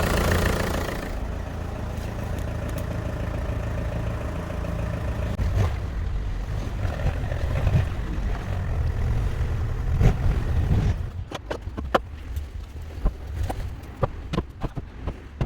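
A boat engine starting up and settling into a steady, smooth idle, a continuous low rumble close by that runs throughout, with scattered knocks and clicks toward the end.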